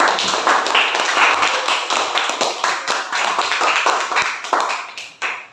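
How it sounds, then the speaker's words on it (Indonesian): Classmates give a group of students a round of applause in a school classroom, the clapping dense, loud and continuous from start to finish, with no talk over it. "tepuk tangan untuk kelompok 2"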